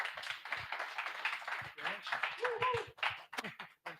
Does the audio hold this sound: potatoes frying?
no